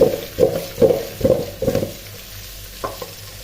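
A ladle stirs boiled sweet potatoes in a pot, giving five or so rhythmic scraping strokes close by. They fade into a couple of softer knocks at the end.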